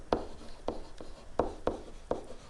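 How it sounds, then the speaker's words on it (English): Handwriting strokes during a rational-exponent factoring lesson, five short scratchy pen-on-board or paper strokes spaced roughly half a second apart, close and moderately soft with no talking. "I'm going to write this over here"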